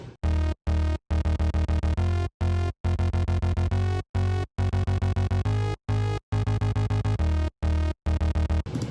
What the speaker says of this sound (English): it's just the Secrets bass from Kashmir and his Sylenth bank